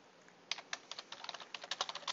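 Quick, light clicks from typing on a computer keyboard, heard close and fairly faint, arriving in an irregular burst of keystrokes with no talking.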